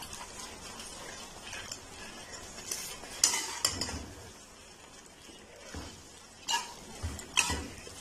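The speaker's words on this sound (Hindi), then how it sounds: "अब जो है वो इसमें हम डालेंगे ये जो हमने मैक्रोनी बॉयल करके रखी है, अच्छी तरह मिक्स करेंगे।" Boiled macaroni being mixed into a sauce in a pan for a Pakistani-style egg macaroni, with scraping, clinking utensil strokes in irregular bursts over a low, steady background.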